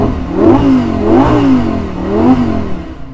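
The 5.2 liter V10 of a Lamborghini Huracan Spyder, parked in neutral, is revved several times, each rev climbing sharply and falling back in a loud, close, rising and falling roar.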